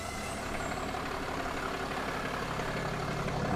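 A 2024 Dynamax Isata 5 overland expedition vehicle idles with its engine running, a steady, close diesel-like rumble that holds an even level and swells slightly toward the end.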